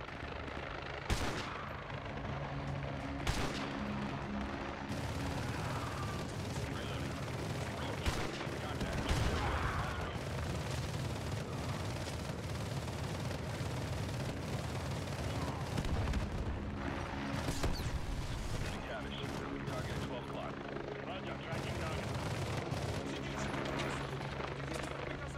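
Scattered gunfire in Call of Duty Modern Warfare 2 Remastered, partly masked under the loud, constant roar and rotor thud of a nearby helicopter, with brief sharp cracks breaking through and voices talking over it.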